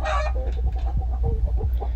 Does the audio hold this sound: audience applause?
no